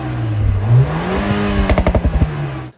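A Mercedes-AMG GLB 35 with its Sport Tune exhaust revs up with a rising roar, then fires a quick series of sharp pops and crackles before cutting off, close and loud.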